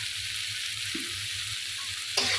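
Mashed vegetables with salt and turmeric sizzle steadily in a frying pan, a continuous close hiss with faint stirring scrapes and a brief louder burst near the end.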